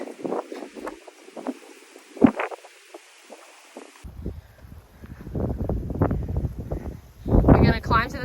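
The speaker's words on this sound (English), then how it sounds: "The wind, it's too windy." Gusty wind buffets the microphone on an outdoor hike, coming in uneven low rumbling bursts, with people talking and breathing close by.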